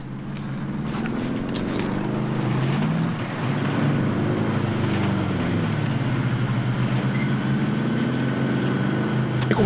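Car engine in Call of Duty Warzone, a steady low droning hum with slowly shifting pitch as the vehicle drives, continuous and fairly loud with game sounds on top.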